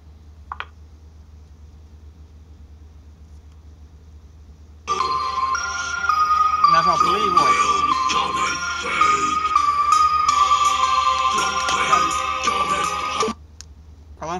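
Phone audio plays through a repaired JBL Charge portable speaker: after several seconds of low hum, loud tonal music-like sound starts abruptly, runs steadily for about eight seconds, then cuts off.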